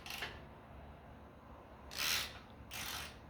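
A Capri half-inch ratchet fitted with a 19mm Craftsman socket gives two short bursts of quick, close clicking, separated by a quiet pause.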